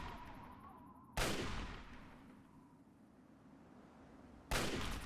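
Two loud, sharp hunting rifle shots in the post-apocalyptic game Fallout 3, spaced a few seconds apart, each a sudden crack followed by a decaying echo over faint background ambience.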